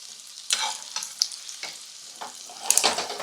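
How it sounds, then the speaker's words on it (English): Potatoes sizzle in a pan of hot butter while being basted, with soft crackling frying and repeated spoon scrapes and splashes at an irregular pace, close and fairly quiet, with no talking. "Then we'll just start basting the potato."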